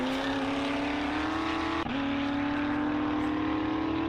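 A car engine in the video game 7 Days to Die drones at a steady high pitch, briefly dipping then climbing again as it accelerates, loud and continuous.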